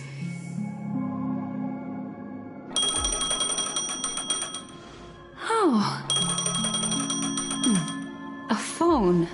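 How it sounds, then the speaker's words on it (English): Phone ringing in Honkai: Star Rail, a bright repeating electronic ring tone over game music, followed by a brief voice. "A phone."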